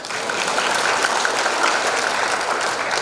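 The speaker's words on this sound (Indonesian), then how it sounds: "Mohon tepuk tangannya." Audience applause at a university graduation ceremony in Indonesia, a dense, sustained roll of many hands clapping at full volume throughout, with a faint murmur of the crowd beneath.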